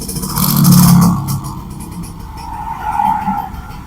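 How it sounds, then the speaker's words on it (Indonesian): A cheap used motorcycle for farm-field riding runs with a dry, crisp engine note, revving up loudly in a swell and easing off, then rising again, close to the listener with no one talking. "Suara mesinnya seperti ini, mesinnya garing"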